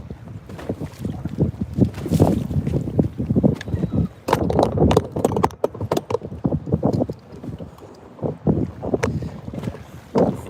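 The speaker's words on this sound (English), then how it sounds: "It is a very windy day out here" Strong gusty wind buffets continuously, with rough, choppy bursts and knocking sounds rising and falling throughout, no voices.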